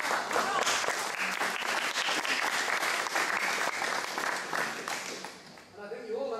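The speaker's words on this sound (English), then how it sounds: "Round of applause for all our soloists." Sustained audience applause for soloists at a collaborative performance week, dense and continuous clapping close to the microphone for several seconds before tapering off near the end.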